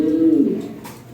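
A single drawn-out coo from an imported European Lahori Sherazi pigeon, close and loud, tapering off after about half a second with faint background noise.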